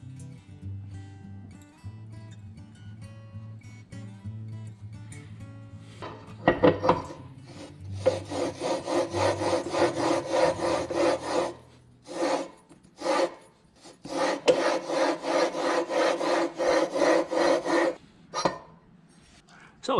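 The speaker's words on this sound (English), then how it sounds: "now I will lap this flywheel in with some valve grinding compound" Gritty rubbing and rasping of a B200 mini bike flywheel being lapped with valve grinding compound, starting quiet, then loud, close scraping strokes in sustained bursts with brief pauses between.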